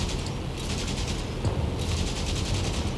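Aircraft machine guns in the IL-2 Sturmovik flight game fire a dense, continuous stream of rapid rounds. The bursts are loud and unbroken across the whole stretch, with no voices.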